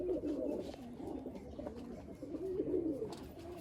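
A Malwai pigeon coos in low, rolling phrases that repeat steadily over a few seconds, fairly close and alone, with faint background noise.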